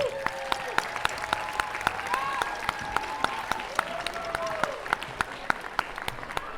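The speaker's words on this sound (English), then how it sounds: "Please, big round of applause." Families cheer and applaud at a fifth-grade music department end-of-year celebration on a North Kingstown beach, a steady wash of clapping with sharp individual claps and occasional whooping voices rising through it.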